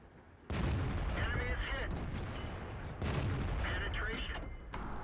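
Heavy cannon fire in World of Tanks, with loud booming shots landing in bursts over rumbling battle noise while a voice talks throughout.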